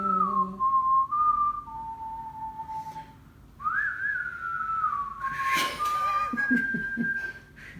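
Someone whistles a melody, a clear, somewhat hesitant line of sustained and gliding notes with short gaps and a few soft knocks partway through.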